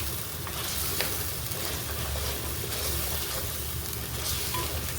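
Mutton fries with turmeric in a clay pot, giving a dense, steady sizzle with faint stirring scrapes. It is moderately close and plays without any talk.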